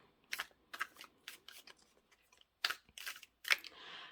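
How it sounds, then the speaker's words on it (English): Tarot cards being shuffled by hand, a series of crisp riffling bursts in quick irregular succession, close and clear, with short pauses between shuffles and no talking. "I'll keep looking as I shuffle more cards here."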